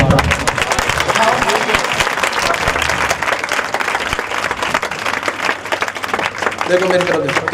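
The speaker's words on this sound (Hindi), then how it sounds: "ताली बजाकर प्रार्थना।" A congregation claps together during prayer at a church meeting, sustained loud applause-like clapping from many hands filling the room, with voices speaking and calling out over it throughout.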